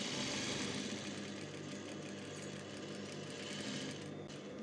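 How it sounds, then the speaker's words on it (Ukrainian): A sewing machine runs steadily while stitching a 1 cm side seam on a spunbond fabric clothes organizer, a continuous close, even mechanical whir with no pauses and no talking. "Настрочуємо шов зшивання."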